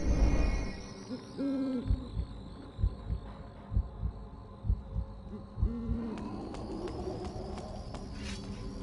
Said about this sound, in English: The owl hooting.